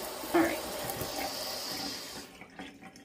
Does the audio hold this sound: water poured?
yes